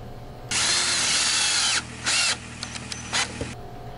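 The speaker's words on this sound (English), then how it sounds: "drilling out the holes for the half inch bolts" An 18-volt cordless drill with a half-inch bit whines loudly in bursts, boring holes through a bracket and post for bolts, with short pauses and a few brief spurts between longer runs.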